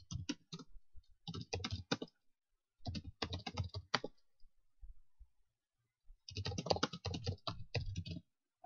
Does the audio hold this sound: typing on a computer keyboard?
yes